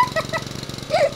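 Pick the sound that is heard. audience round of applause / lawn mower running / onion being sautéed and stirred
lawn mower running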